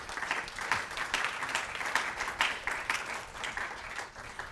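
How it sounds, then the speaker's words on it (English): Audience clapping at an academic conference session on history and education: a scattered, fairly faint round of hand claps with individual claps standing out in an uneven rhythm, heard from a distance. "If you want to applaud them with me, that's nice."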